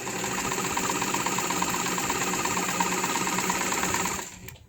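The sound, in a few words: Singer 237 heavy duty sewing machine stitching four layers of denim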